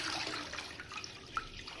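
Water is poured into a kadai from a jug while making chicken biryani, a steady, soft splashing and trickling that runs through the whole short moment without any talk.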